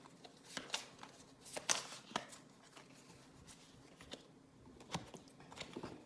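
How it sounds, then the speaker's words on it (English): A deck of cards for a NATO air commander board game shuffled by hand, a quiet run of papery riffles and flicks in irregular bursts, close up and with no voice over it. "And so we're going to have to shuffle, and get some new cards."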